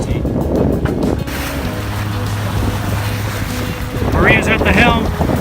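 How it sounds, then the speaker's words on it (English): A sailboat running with both sails up in about 10 to 11 knots of wind, making around 6 knots: a steady, loud rush of wind across the microphone over the wash of water along the hull. "We're doing about 6 knots and about 10, 11 knots of wind. Both sails up."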